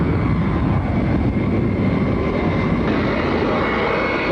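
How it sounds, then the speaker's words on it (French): The command airplane of Nigerian president Shehu Shagari takes off in 1983, its engines giving a loud, continuous roar that holds steady throughout and shifts slightly in tone near the end. "13h25, l'avion de commandement du président nigérian Eladj Cheikhou Chagari"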